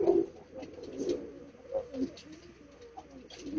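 Pigeons at a kabootar-bazi loft, one a strong flyer playing about in the background, give low repeated coos in soft bursts, moderately close amid light ambient noise.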